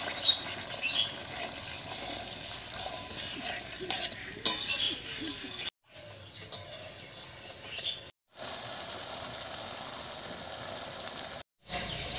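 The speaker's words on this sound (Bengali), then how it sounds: "এবারে মশলা বাটা জল দিয়ে ভালো করে কষিয়ে নেব।" Spices cook in oil with ground spice paste and water, scraped and stirred around the pan while a busy, crackling sizzle continues; it drops out abruptly in a few brief silent gaps.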